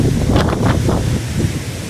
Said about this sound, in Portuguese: Aqui está uma ventania muito grande essas horas